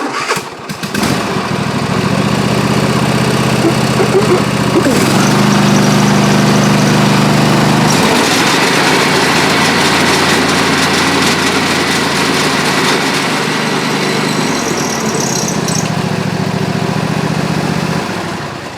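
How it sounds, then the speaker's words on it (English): A 46-inch zero-turn mower runs loud and steady nearby, its engine note shifting and bogging as the PTO engages the cutting deck, then settling into a strained mowing drone before lifting again near the end. "Did you see how the deck jumped and then started mowing?"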